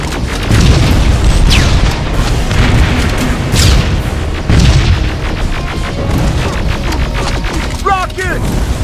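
Rockets blast in Terminator: Resistance, several heavy booming explosions rumbling one after another with crackling debris, loud and close, as a voice shouts over the chaos.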